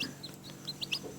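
Small chicks peep in high, short chirps, several in quick succession, over a soft, low background murmur of chickens clucking nearby in a home yard.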